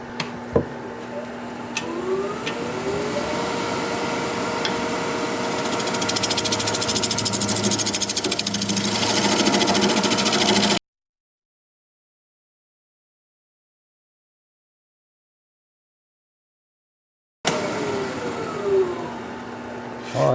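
A fir bowl spins on a wood lathe while a scraper works it, giving a steady whirring drone with humming tones and rising rasp. The sound cuts to silence midway, then resumes.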